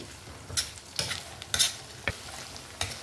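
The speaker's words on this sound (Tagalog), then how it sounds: "Maganda pagka-prito, hindi siya nadudurog." Oil sizzles and crackles as tofu fries in a pan, with a few sharp stirring scrapes and spatters standing out from the steady hiss.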